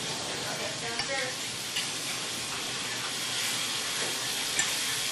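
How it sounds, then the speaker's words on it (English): Red snapper fries in a hot, smoking pan with a steady, dense sizzle and hiss, a few small pops and stirring clatters breaking through, close and continuous throughout. "Now I can see this is smoking really good, and that's telling me that it's cooking a little bit fast."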